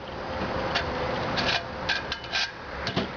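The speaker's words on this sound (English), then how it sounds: "we're going to go ahead and cut that off with some side cutters." Side cutters snip through bent wire during a homemade oven build, giving a handful of short, sharp clicks spaced irregularly over a low background rustle, close and fairly quiet.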